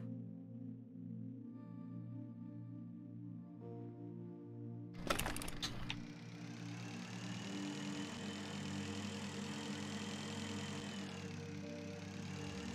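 A motorbike engine in the space survival game Breathedge starts after a brief clattering burst and settles into a steady, droning mid-pitched hum that runs on continuously, with no talking.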